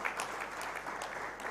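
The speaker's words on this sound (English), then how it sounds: "join me in clapping and thanking and appreciating the people who have got awards" Audience applause at an indigenous food and seed fair, a short, moderately quiet patter of many hands clapping together at a steady level.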